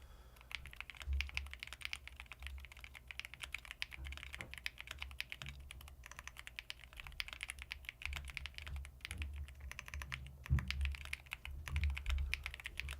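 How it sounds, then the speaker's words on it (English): Continuous rapid clatter of keys on a computer keyboard, close and fairly quiet, with an uneven rhythm of bursts and short pauses, no voices over it. "I'm not typing this whole thing, man. It's too much typing."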